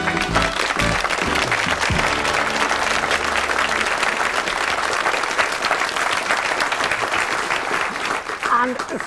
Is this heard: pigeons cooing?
no